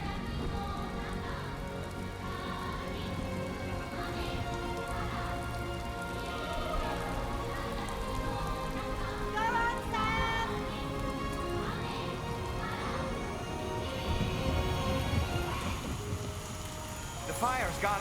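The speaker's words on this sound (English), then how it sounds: "She's gonna put some rain out." Steady rain pours down across a Death Stranding 2 game scene, a dense continuous hiss with occasional heavier patter, while a voice speaks over it throughout.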